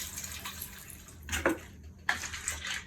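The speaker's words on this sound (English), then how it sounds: "I've got just about 8 cups here, and I like to fill it to about 2 inches above the beans." Water poured into a pot of beans to fill about two inches above them, a quiet background trickle with two short, brighter splashing pours, no talking.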